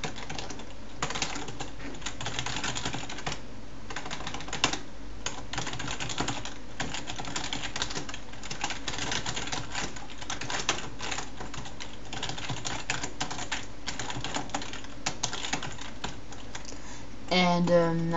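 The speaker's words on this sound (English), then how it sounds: "type in some required information" Fast, steady typing on a computer keyboard while writing C++ code, dense close clicking that runs almost unbroken for a long stretch, with no voice over it.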